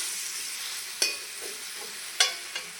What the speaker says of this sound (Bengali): ভালো করে মিলিয়ে নেব। দেখুন মশলা কিন্তু আমি ভালো করে কষিয়ে নিয়েছি।